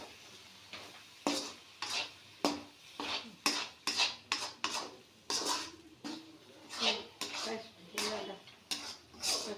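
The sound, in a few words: stirring chicken curry in a pot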